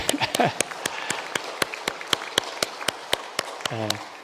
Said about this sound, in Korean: 네, 박수 한번 치십시다.